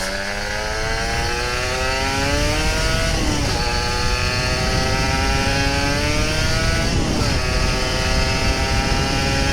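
An old Kawasaki Ninja RR 150 two-stroke motorcycle engine revs loudly and climbs in pitch through the gears, with two shifts in a steady rising whine, close up.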